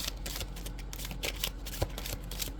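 A deck of cards is riffled in a fast shuffle, giving a steady run of crisp, close flutters and slaps lasting a few seconds, with one sharper knock near the end and no talk.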